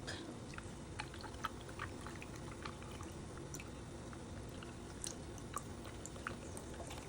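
Milk poured over ice for an iced caramel latte, a soft, steady liquid pour with faint trickles and small clinks, low and close with no talk.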